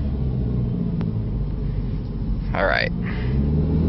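A 2003 PT Cruiser Dream Cruiser Series 2 rolls along with a low steady engine rumble and road noise from inside the cabin, as a voice speaks briefly over it.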